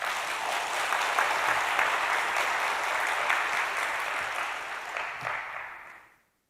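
Sustained applause from a crowd at a church prayer meeting, steady and dense for about six seconds before tapering off at the end.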